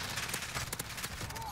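Bursts of automatic gunfire crackle in the Call of Duty Modern Warfare video game during an online match, rapid overlapping shots firing steadily throughout, with a voice speaking over parts of it.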